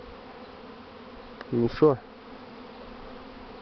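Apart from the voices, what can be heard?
swarming honey bees buzzing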